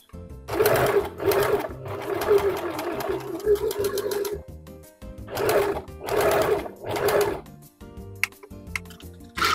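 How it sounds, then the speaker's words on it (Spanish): Domestic sewing machine stitching a seam on men's boxer briefs, loud close motor whirring in several bursts of one to two seconds separated by short pauses, with no voices. "Entonces voy a llevar la costura sobre este borde del prensatelas."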